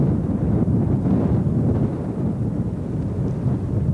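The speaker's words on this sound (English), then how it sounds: "I know it sounds windy, but it's really nice." Heavy wind buffets a handheld camcorder microphone outdoors on an open coastal site in 1995, a constant loud low rumble with gusting surges and no speech.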